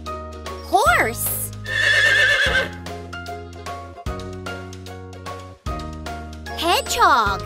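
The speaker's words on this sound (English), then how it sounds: "Horse!" Cartoon horse whinnies in a children's animal puzzle game, rising and falling cries at start and end, set against a looping upbeat background tune with jingly chimes.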